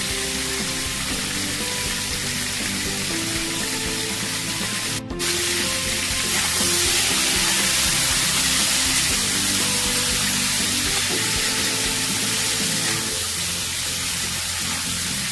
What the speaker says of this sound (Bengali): সবজিটা খুব ভালো করে ভেজে দিচ্ছি।